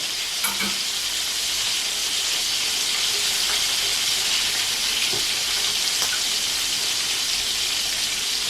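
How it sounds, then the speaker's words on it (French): Prawns browning in hot oil in a paella pan, a steady dense sizzle and crackle throughout with a few small pops and stirring clicks, close and continuous. "On va mettre las gambas et on va faire la même chose. On les va dorer."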